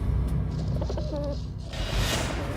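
A pigeon coos softly among other bird calls, a short low murmuring phrase heard fairly close against steady background noise.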